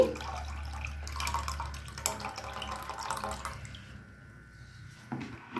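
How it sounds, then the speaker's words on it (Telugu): Water is poured off washed, soaked urad dal, a close trickling and splashing flow that tapers into quiet drips, then a brief final splash. "ఈ వాటర్ని కూడా మనం వంచేసుకోవాలి"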